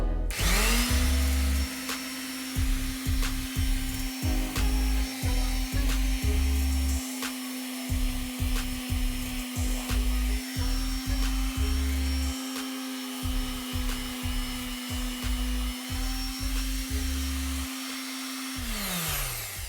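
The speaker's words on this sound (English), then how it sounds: "I'm gonna use this electric hand sander, so" An electric hand sander runs on wood for a custom display shelf, giving a loud, steady motor whine that holds for about twenty seconds with a rough, pulsing grind underneath and no talking.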